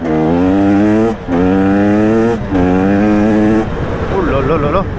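KTM 300 EXC 2025 two-stroke enduro motorcycle ridden through rough, sloppy trail conditions, its engine loud and close with a steady rising whine broken by brief throttle chops, while a rider exclaims over it near the end.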